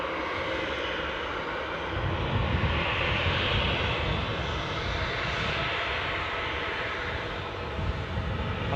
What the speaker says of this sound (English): This is the Antalya flight, as Ken says